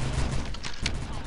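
Shotgun fire in a multiplayer arena shooter around a railgun platform: two sharp, loud blasts close together over steady rumbling game noise.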